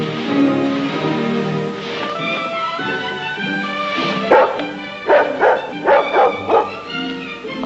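A dog barks in a 1950s family sitcom scene, starting with a whimpering, muffled yelp under music and then breaking into a run of about six sharp, loud barks in quick succession.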